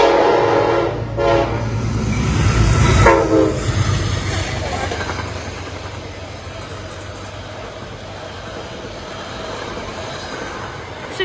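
A Metro-North Shoreliner train passes at Riverdale, New York, sounding a loud, close horn blast early on before a long rumbling roar of rolling cars fades slowly.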